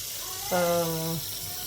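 A pot filling with water from a kitchen tap, a brief steady run of water that starts abruptly and stops after under a second, heard close and fairly loud against a quiet room.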